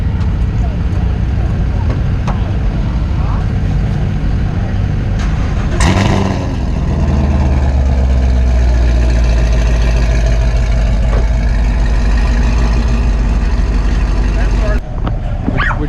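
A car fitted with aftermarket headers idles as it warms up, a steady low rumble that lifts into a louder rev partway through and then settles back to a deep, even idle close by, with people talking over it.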